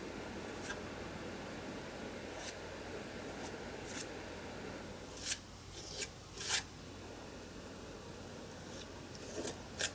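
Paste is pushed and scraped across a heart-shaped stencil, making faint, dry rubbing and rasping strokes with a few sharper scrapes in a quiet room.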